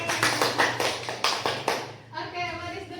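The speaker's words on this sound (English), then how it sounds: "Please give applause for Sonia" Classroom applause for a student during a grade 12 microteaching lesson, a close burst of quick, brisk hand claps for about two seconds, then a voice speaks as the clapping fades.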